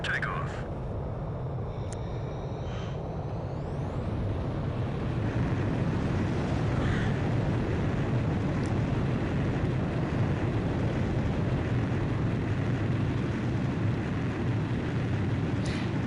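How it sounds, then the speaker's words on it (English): Fighter jet engines roar steadily on an aircraft carrier deck in the video game Ace Combat 5, a loud sustained rumble with whooshing wind-like noise throughout, while a voice speaks over it. "Blaze, you are cleared for takeoff."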